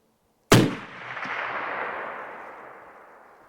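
A single loud hunting-rifle gunshot at a 100-yard range: one sharp, close crack followed by a long rolling echo that fades slowly over a few seconds, with no other sound around it.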